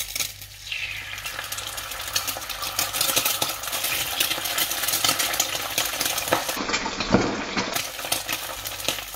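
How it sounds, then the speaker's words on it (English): Eggs fry in a pan with a steady, close sizzle and crackle that runs the whole way through, with a few faint clinks of utensils on top. "Next step was frying the eggs"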